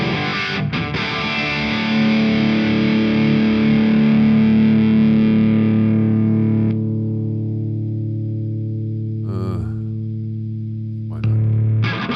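Distorted electric guitar played through the IK Amplitube 4 amp simulator, a sustained chord ringing loud and saturated with a chorus-like shimmer, decaying into held low notes with a brief scrape and a final restruck tone, no gate applied.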